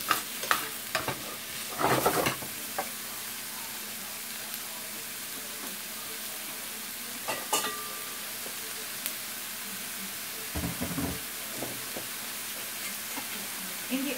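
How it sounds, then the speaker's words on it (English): Onions sauté in a pan under a constant soft sizzling hiss, broken by a few short scraping stirs near the start and again midway, with no talking. "We're gonna saute the onions for a little bit."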